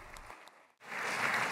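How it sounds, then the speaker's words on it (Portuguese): Congressmen applauding in a legislative chamber: a broad wash of clapping that dips briefly to near silence, then swells into a loud, sustained ovation. "O republicano foi recebido sob aplausos pelos congressistas"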